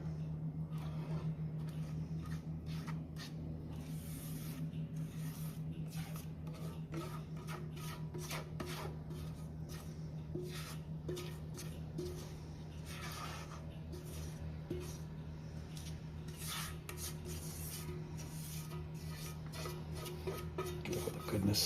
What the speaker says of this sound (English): Get all the goodness scraped out of that.